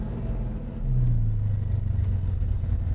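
A 1965 Ford Mustang Fastback GT350H tribute pulls away, its engine giving a deep, steady rumble that swells slightly as the car moves off, close and continuous.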